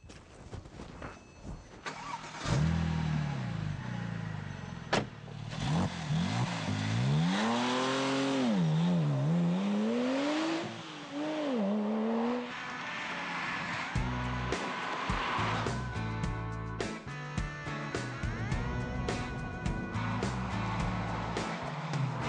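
A Ruf-tuned 600 hp Porsche Turbo starts and accelerates through the gears, its engine note rising and falling in pitch across several pulls, loud and close with no talk over it.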